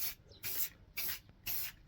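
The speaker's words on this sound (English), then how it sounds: "for now we're just going to spray it indoors" Clear lacquer sprayed from a spray can onto plywood edge pieces of a picture frame indoors, four short hissing bursts at an even rhythm with brief silences between, close and fairly quiet.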